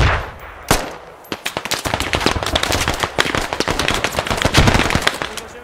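Dense battle noise in a WWII combat video game with a British bombardment assault: rapid machine-gun bursts, rifle shots and booming explosions overlapping nonstop, loud and chaotic.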